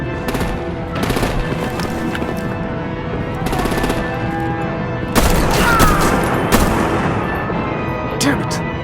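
Gunfire and artillery from the Batman: The Enemy Within video game, with loud repeated bursts of machine-gun fire and heavy booming blasts arriving in waves over a dense, continuous battle din.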